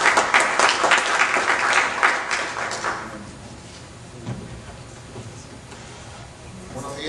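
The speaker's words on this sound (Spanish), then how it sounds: "Recibamos pues con un fuerte aplauso al doctor Ricardo Rodríguez Ardiles." Audience applause at an arbitration lecture welcomes a doctor, loud and dense for about three seconds before fading into quieter room noise with scattered shuffles.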